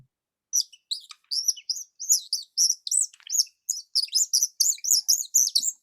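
Bird whistles imitate birdsong with a lively run of bright, high chirps and trills. The chirps come in quick clusters, clear and close against silence.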